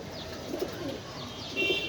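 Pigeons at a farm coo in soft, repeated rounds with a few faint higher chirps, fairly quiet and unaccompanied by speech.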